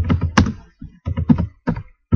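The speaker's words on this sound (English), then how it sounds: "now we're gonna type the for loop" Bursts of keystrokes on a computer keyboard while code is typed, in uneven clusters of fairly loud, close, thumpy clacks separated by short pauses.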